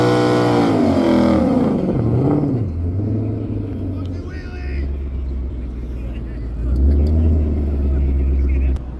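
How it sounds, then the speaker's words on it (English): A Ford Mustang does a burnout, its engine revving hard and rumbling at length, the pitch rising and falling, with tire noise and a low roar building toward the end. "It'll let you do a big burnout, but it doesn't want to let you launch."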